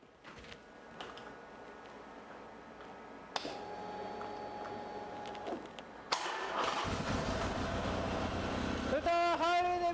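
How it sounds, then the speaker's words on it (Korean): A 2010 Harley-Davidson Sportster XR1200X with stock muffler starts and idles with a low, steady rumble, then revs up louder toward the end, with a mechanical whine over the throb. "할리 데이비슨 순정 머플러의 배기 사운드를 한번 들어보고요"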